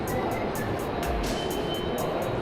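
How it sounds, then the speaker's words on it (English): New York subway train running underground in Manhattan, a steady loud rumble and roar of wheels on rail with a rhythmic repeating clatter, continuous throughout with no voices. "We're going into the train now."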